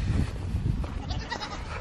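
Young goats bleat near hay, a close, rough chorus of overlapping bleats against a dense rustling background, with no talking.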